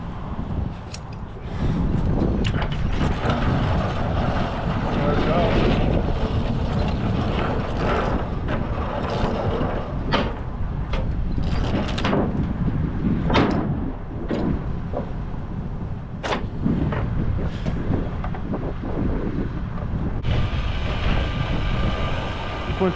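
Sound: truck winch pulling a heavy load onto trailer

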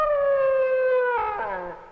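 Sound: air raid siren going off in film

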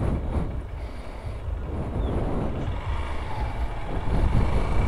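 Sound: Honda Bros 150 2014 motorcycle riding

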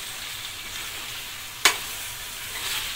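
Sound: stirring ground masala into frying chicken curry

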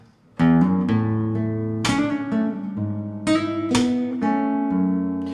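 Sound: guitar intro played with pull-offs

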